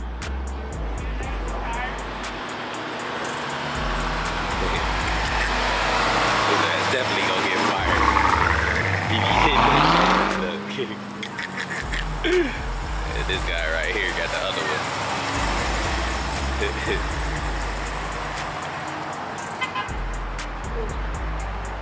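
Cars and trucks pass steadily in road traffic, one vehicle swelling loud and close midway before fading, with a horn toot and people talking throughout.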